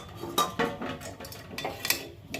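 Metal pots, pans and utensils clink and scrape in a home kitchen while dal is finished and potatoes are set to fry, several sharp knocks at irregular intervals over a low room hiss.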